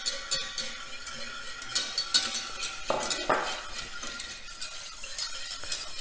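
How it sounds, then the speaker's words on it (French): A spoon stirs chia seeds with vanilla and sugar in a pot, giving soft scraping and light clinking in a steady, quiet rhythm. "je verse mes graines de chia tout en remuant"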